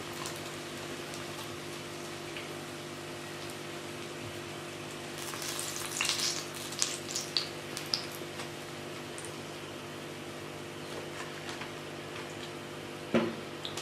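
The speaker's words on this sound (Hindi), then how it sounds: "4 बैंगन हमने फ्राई कर लिए हैं। अब बाकी के बैंगन भी हम इसी तरह फ्राई करेंगे।" Eggplant slices fry quietly in oil with a soft, steady crackle and scattered small pops and clicks, heard at a low level throughout.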